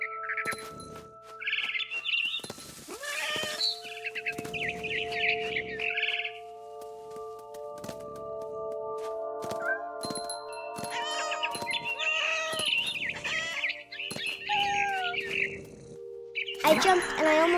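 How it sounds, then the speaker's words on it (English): Barn swallow chirps from the video game What Remains of Edith Finch, bright and intermittent, mixed with sustained musical tones, meow-like cat sounds and a voice talking through much of the scene. "Then I heard chirping outside my window. It was a barn swallow going back to her nest."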